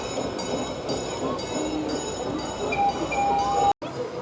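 The Alpen Express amusement park train at Busch Gardens Williamsburg rolls past nearby with steady rumbling, rhythmic clicks and metallic clinks, and a ringing tone rises near the end.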